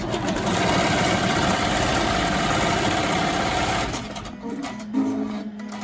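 Melco embroidery machine stitching a mask, a steady rapid mechanical whir running continuously at close range before cutting back to quieter, sparser machine sounds near the end.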